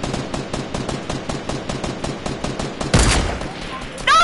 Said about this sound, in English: BJ, shoot him down. I got the sniper.